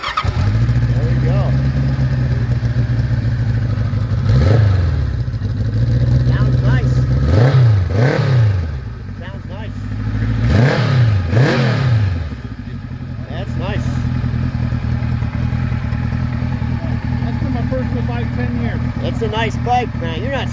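Vincent motorcycle engine revving, several loud rising-and-falling throttle blips over a steady rumbling idle, close by, with people talking around it.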